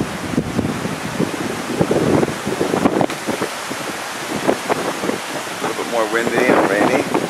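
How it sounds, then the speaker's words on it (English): Wind and rain during Hurricane Sandy in Bryn Mawr, Pennsylvania, on a Monday night: steady broadband wind roar and rain hiss with gusty swells throughout, loud and close to the microphone, with a voice speaking intermittently over it. "Windy and rainy."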